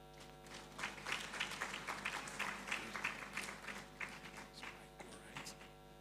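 An audience at a deep learning conference gives quiet applause after a presentation, a faint patter of scattered clapping over a steady electrical hum, lasting several seconds.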